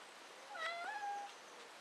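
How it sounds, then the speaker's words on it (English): A pet cat meows a few times in the background, quiet and somewhat distant, a rising then falling meow cry over low room hiss in a kitchen where a cardboard solar cooker box wrapped in aluminium foil is being set up. "You can hear my cat meowing in the background."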